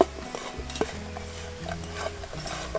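Ground roasted rice and ground roasted rice husk are mixed together with a utensil, making soft scraping and clinking stir sounds. The knocks come at an uneven pace over a low background hum.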